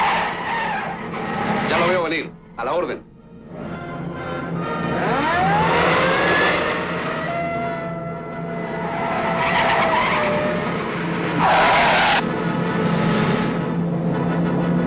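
Cars skid and race in a 1963 Argentine comedy film chase, a small white car pursued by two black cars; loud sustained tire squeals and engine roar run under spoken dialogue and music throughout.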